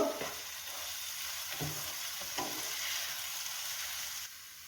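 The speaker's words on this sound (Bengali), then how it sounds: "এবার আমরা আদা বাটাটা দিয়ে দেব। একটু ভালো করে নাড়িয়ে নেব।" Ginger paste stirred and frying in hot oil for a prawn curry: a dense, steady hiss of sizzling close up, with a few soft spoon scrapes and knocks early on. The sizzle dips slightly at the end.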